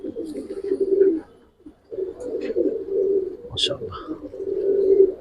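Green-necked and silver-necked coloured pigeons coo in repeated low, throaty phrases close by, separated by a brief pause, with a faint chirp and scuffle between calls.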